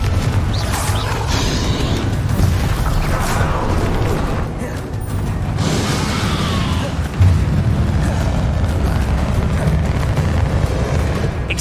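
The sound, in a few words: explosions from spells in the video game Hogwarts Legacy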